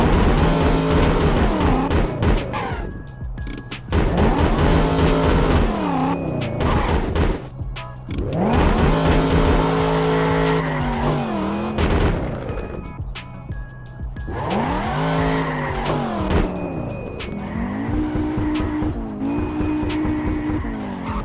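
Wheels spinning from a standstill in GTA San Andreas with modded handling: repeated bursts of screeching tire squeal over revving game engines, loud and continuous for about twenty seconds with brief pauses, no talking.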